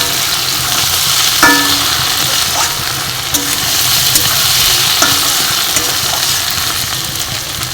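Snake gourd fries with egg in an oily pan, giving a loud, continuous sizzle close by, broken by a few scraping stirs and light clinks of a spatula.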